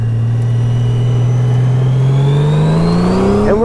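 A 2014 Honda Valkyrie motorcycle engine revs up steadily under acceleration, its deep, loud drone rising in pitch over a few seconds, close and continuous with no talking.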